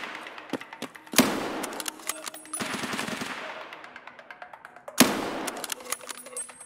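Bursts of automatic rifle fire in the shooter game Escape from Tarkov: a few scattered shots, then two loud, sharp volleys roughly four seconds apart, each ringing out with echoing tails between quieter single cracks.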